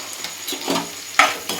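Onions fry with salt in a pan for an egg bhurji, a steady sizzle with scraping stirs and a sharper crackle partway through.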